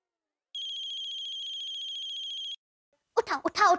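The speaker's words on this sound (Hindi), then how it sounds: "मिली बहन, आज तो फोन उठा ही लो मेरा।" An electronic mobile phone ringtone buzzes steadily for about two seconds and stops; after a short pause, a voice begins speaking.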